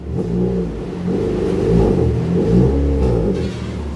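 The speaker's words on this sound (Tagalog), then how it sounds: "narinig nyo ba yung tambucho natin?" A 2024 Honda City RS engine revs and rumbles through steady low-pitched exhaust, rising and falling in a few surges, loud and close, with no talking.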